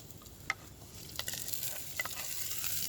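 Onion and garlic fry in a pot, a quiet, steady crackling sizzle with scattered pops and a few stirring clicks, growing slightly busier over the few seconds, with no voices.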